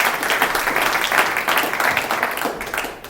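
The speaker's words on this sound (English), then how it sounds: "Round of applause, folks." Audience applause at the close of a talk at Digital Festival 2017, a dense, lively wash of many hands clapping for about three seconds, with no speech.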